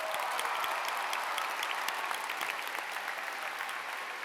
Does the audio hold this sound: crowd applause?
yes